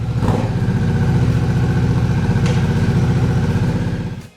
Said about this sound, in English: Number 5, the Harley-Davidson Nightster Special.